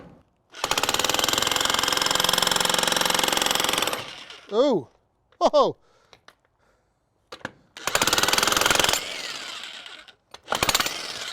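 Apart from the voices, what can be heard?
jackhammer breaking concrete foundation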